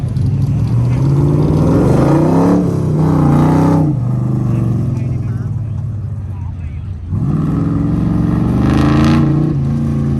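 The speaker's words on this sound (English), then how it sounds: "Smith in the 77 Cobra, driving now a Factory 5 Cobra. Coming around the hairpin into the Chicago box" A Factory 5 Cobra race car at an autocross rounds a hairpin, its loud, close V8-style engine rising and falling through revs and shifts, with a brief lift before accelerating hard again; a commentator talks over it.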